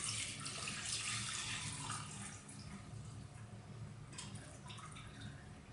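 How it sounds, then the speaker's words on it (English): Strained corn liquid pours back into a cooking pot, a soft continuous splashing trickle that fades slightly partway through, heard alone and fairly quiet. "Take the strained liquid, pour it back into your pot or crock pot"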